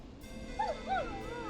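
A neighbor's dog in the video game Killer Frequency gives two short, nearby whimpering yips in quick succession, set over a steady low background hum.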